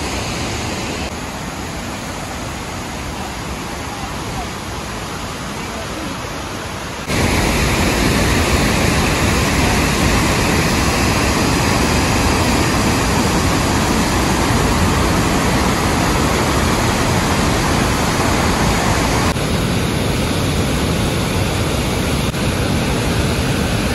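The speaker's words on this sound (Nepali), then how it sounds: "न माथिबाट आइरहेको छ है झर्ना" Steady broadband roar of a waterfall pouring down from above along a trekking trail near Humkhola, close and continuous, growing louder partway through and holding without a break.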